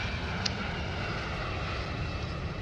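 An A-10 Warthog jet engine in the video game War Tycoon gives a steady, loud, unbroken roar with a dense rushing drone and no pauses.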